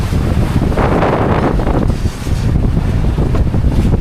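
Strong wind at sea roars loud and constant across a boat off Surigao as the weather worsens, buffeting the microphone with heavy low rumble, with waves washing underneath.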